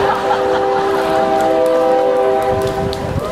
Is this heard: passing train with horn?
yes